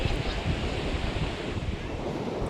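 Sea waves surging on the coast near Kelshi, a steady broadband roar of surf with wind buffeting the microphone, continuous and fairly loud throughout with no voices.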